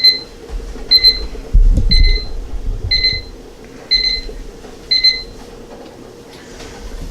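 A kitchen timer alarm goes off while eggs boil: six evenly spaced bursts of high, sharp double beeps, loud and close, with a brief low thump and handling noise partway through.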